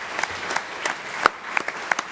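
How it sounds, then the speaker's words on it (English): An audience at a political meeting applauds Peter Kellner: a brief, fairly close burst of clapping with a few sharper individual claps. "Big round of applause for Peter Kellner."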